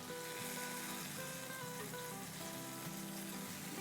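A freshly flipped burger patty sizzles in a pan, a continuous, even crackle heard close and fairly soft with no talking.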